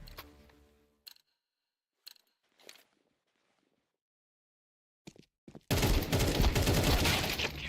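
Gunfire from a competitive shooter video game match: a few sparse sharp shots and clicks separated by silence, then a sudden dense burst of loud rapid firing and explosions filling the final seconds.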